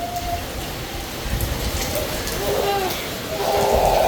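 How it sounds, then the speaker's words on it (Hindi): Steady rain patters down in a dense hiss that swells louder near the end, with a voice faintly mixed in. "इतनी प्यारी बारिश हो रही है, इतनी मज़े की बारिश हो रही है ना।"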